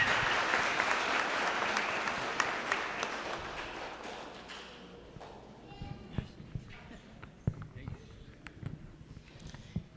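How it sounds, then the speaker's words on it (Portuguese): A church congregation at a Catholic Mass during a novena to Senhor Bom Jesus applauds an altar boy; the clapping is full and close at first, then fades away, leaving a quiet, sparse room. "Uma salva de palmas para o nosso coroinha."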